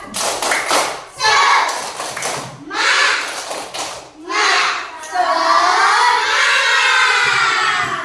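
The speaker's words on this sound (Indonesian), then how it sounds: "Yuk, tepuk semangat." Schoolchildren in a classroom perform a spirit clap, bursts of rhythmic clapping and voices chanting in loud, energetic waves, ending in a sustained shout.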